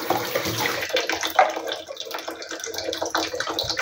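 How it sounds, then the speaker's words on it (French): Water runs steadily into a bathtub while a sink trap is rinsed clean, a continuous splashing hiss with small fluctuations close by. "on va nettoyer le siphon lui-même dans l'évier, dans la baignoire"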